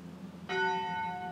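A church bell in the English countryside village of East Chiltington strikes once with a clear onset, its ringing tones sustaining and slowly fading over a steady low background hum.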